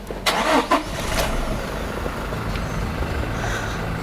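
A car engine cranks with a couple of sharp bursts, then catches and settles into a steady low idle during periodic maintenance, close by with no talking.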